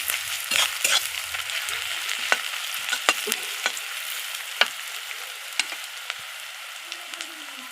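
Gram flour paste fries in hot oil in a pan, a steady close sizzle broken by scattered clicks and scrapes of stirring, with no talking.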